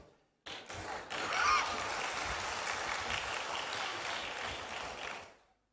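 An audience at a Christian sermon by Mar Raphael Thattil in Thrissur, Kerala, breaks into applause that starts suddenly, swells and holds for about five seconds before fading out.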